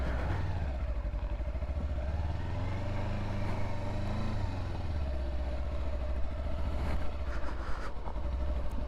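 Motorcycle engine running steadily while riding north out of Martin toward the Badlands, a continuous close rumble with slight shifts in pitch and no talking.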